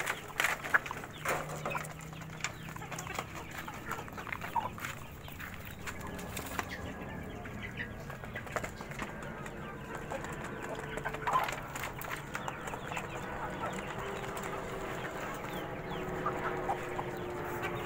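Chickens on a farm cluck softly and intermittently at a distance, with scattered rustling and occasional wing flaps in a quiet, continuous outdoor background.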